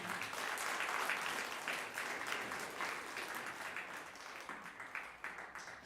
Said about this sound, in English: I'd like you to give a round of applause to every speaker